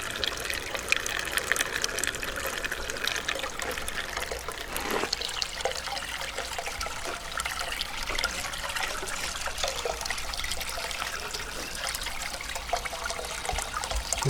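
Water from a feed valve pours steadily into the funnel of a Sluice Goose Goldrop gold recovery unit, giving a continuous close trickling and gushing rush with no voices.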